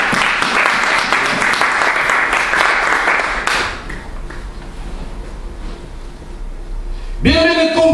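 Church congregation applauding loudly for several seconds during an evangelical service, then the clapping thins out and dies away into a quieter room tone, with a voice speaking at the end.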